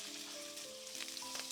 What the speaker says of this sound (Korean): 감자를 살살 볶아주세요.